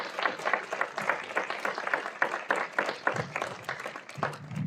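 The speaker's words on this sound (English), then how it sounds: "One more round of applause for Ms." An audience at a community discussion in Annapolis claps in a moderate, uneven patter of many hands, fairly close, with a little background murmur.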